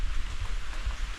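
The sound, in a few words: light drizzle rain and wind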